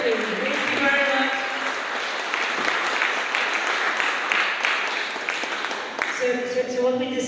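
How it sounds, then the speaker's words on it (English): Audience at a panel talk on day two of an event in Ruigoord clapping warmly, dense steady applause throughout, with a voice speaking over it near the end. "Of course, a warm applause for you"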